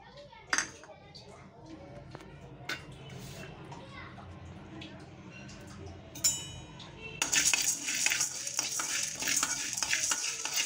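Sago (javvarisi) roasted and stirred in a kadai on the stove, giving soft scraping and light rattling close by, with background voices and children heard throughout and a louder, brighter stretch toward the end.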